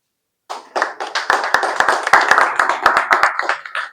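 An audience at a felicitation ceremony for badminton medalists claps loudly and close by, a dense burst of applause that starts abruptly and holds steady with sharp individual claps standing out.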